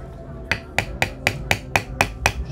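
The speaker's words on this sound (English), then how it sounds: "And then we bring in a riveting tool and a hammer." A hammer taps a riveting tool to set a leather rivet, producing nine sharp, evenly spaced metallic knocks in quick succession, close and clear with no talking.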